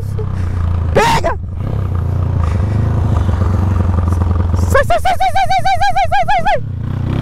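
Motorcycle riding along a street, a loud continuous engine drone close by with a brief passing whine early on, then shouting voices and a warbling horn-like tone near the end.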